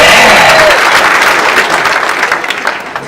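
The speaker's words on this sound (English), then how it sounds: "Round of applause." A comedy club audience applauds at an audition set, a dense, loud wash of clapping with light crowd noise that tapers slightly toward the end.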